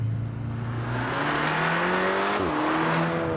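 Stage 3 HPA VW Golf R Mk7 with a dual-clutch gearbox and bolt-on Stage 3 tune accelerating hard from inside, engine note climbing loud and steady, then a quick gear change dip before it pulls again.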